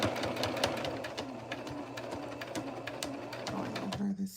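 A chainstitch sewing machine runs steadily over a seam on a VikiSews Liliana vest, its rapid rhythmic needle clatter ticking along at close range before pausing briefly near the end.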